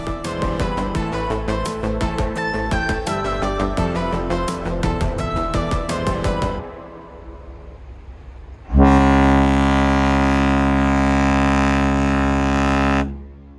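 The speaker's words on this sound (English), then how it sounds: "we will hear the foghorn of the ship every 2 minutes." A deep, loud foghorn on the cruise ship AIDAaura sounds in fog as one long sustained blast after a stretch of other busy sound and a brief lull, ringing with rich low harmonics.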